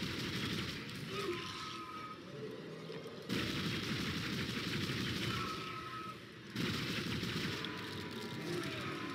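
Video game gunfire rattles in dense bursts of rapid shots, fairly faint and distant-sounding, with brief drops in intensity between volleys.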